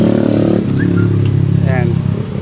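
A Yamaha Mio i 125S fuel-injected motor scooter engine hums steadily, then revs up and pulls away, the note rising briefly; faint voices sit under the engine noise.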